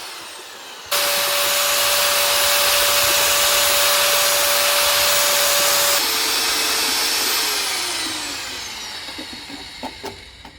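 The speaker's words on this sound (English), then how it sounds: "Always make sure that you clean your paddle mixer off" A paddle mixer churns easy grout for a porcelain patio, a loud steady motor whine starting abruptly, shifting pitch midway, then winding down into a few knocks and scrapes.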